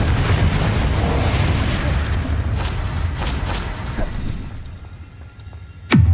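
Confringo fire spell cast in Hogwarts Legacy, a loud rumbling explosion that decays over several seconds, followed at the end by a sharp whooshing blast.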